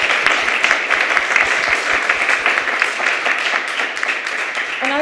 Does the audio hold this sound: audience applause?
yes